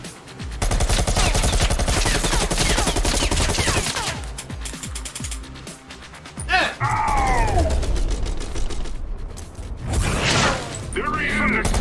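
Gunfire in the VR video game Bullet Train: rapid, dense bursts of shots and mechanical clatter, loud and close, with a voice shouting over the action in places.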